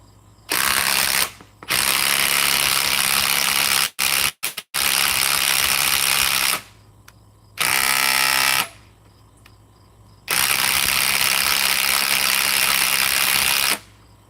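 A Ridgid Octane mid-torque impact wrench with an 8 amp 21700 battery runs in long, loud, close bursts separated by short pauses, with a few sharp rapid hammering clicks between runs.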